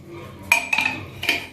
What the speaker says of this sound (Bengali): এবারে কড়াইতে ট্রান্সফার করে দেওয়া হচ্ছে।